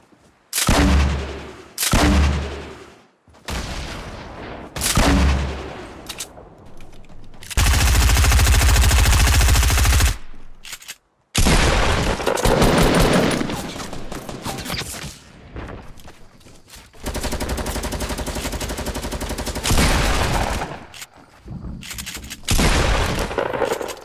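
Fortnite game audio of rapid SMG gunfire, loud dense bursts of automatic fire broken up by short silent gaps, with no voices.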